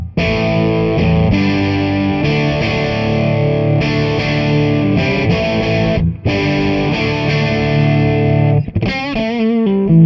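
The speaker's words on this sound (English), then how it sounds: "AC30 30 watt setting, normal channel sounds like this." Electric guitar played through a Vox AC30 amplifier on the normal channel at the 30-watt setting, ringing chords and notes sustained loudly and continuously, with a brief pause and a wavering bent phrase near the end.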